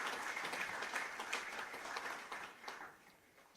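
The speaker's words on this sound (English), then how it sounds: "Give them a round of applause," An audience at a central bank handing-over ceremony gives a round of applause, soft and somewhat distant, with a few clearer claps standing out as it gradually thins.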